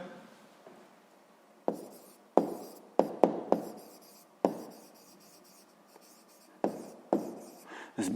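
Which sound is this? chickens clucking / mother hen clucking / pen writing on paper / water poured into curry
pen writing on paper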